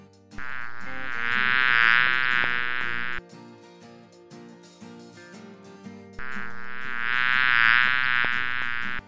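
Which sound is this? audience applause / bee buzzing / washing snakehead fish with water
bee buzzing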